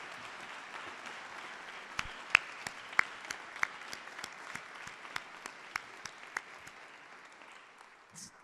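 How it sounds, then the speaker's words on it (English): Audience applause for a graduating class of 2023 at a baccalaureate ceremony, a broad wash of clapping from a large hall with a few sharp individual claps standing out, fading gradually over several seconds. "Please join me in a round of applause for all the members of the class of 2023"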